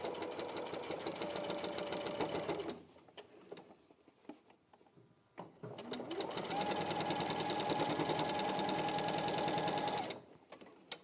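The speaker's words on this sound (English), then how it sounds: "Tropical panel being sewn at the moment." A sewing machine stitches a tropical fabric panel in steady, fast runs: one continuous burst for almost three seconds, a pause filled with faint handling noises, then a longer run of about four seconds, all close and clear.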